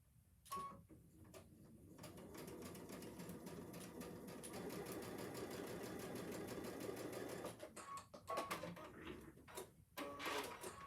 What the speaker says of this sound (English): going to my machine, and I'm going to sew that side together